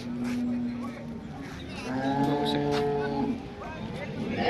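Cows low in long, drawn-out moos, one after another, amid the murmur of a busy outdoor crowd with voices in the background, at a cattle market in Modnimb after the Pola festival.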